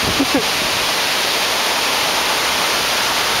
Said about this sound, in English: We have reached what I call the mini Niagara Falls!